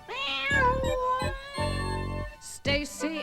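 A cat from a children's storybook tale, meowing several times in clear, drawn-out tonal calls, close and loud, with short gaps between the cries.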